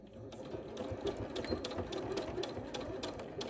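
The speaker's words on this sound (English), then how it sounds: "So don't forget to backstitch" A sewing machine backstitches and stitches quilt binding in a steady, close, continuous whirring hum with light mechanical clatter, running alone throughout.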